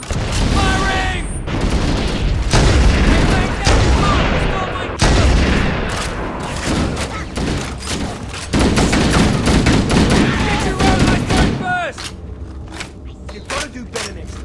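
Loud gunfire in the video game Halo Combat Evolved Anniversary, mission The Truth and Reconciliation, with rapid automatic bursts and heavy booms packed close together, a brief lull near the end, and shouted voices mixed in.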